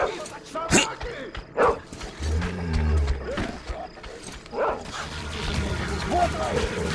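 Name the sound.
dogs barking in video game Metro Exodus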